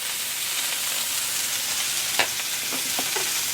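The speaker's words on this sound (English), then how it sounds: "then we're going to sear each side roughly 2 to 3 minutes" A seasoned steak, rubbed with kosher salt, garlic powder and black pepper, sears in a hot pan with a steady, soft sizzle and a few crisp pops and spatters near the end.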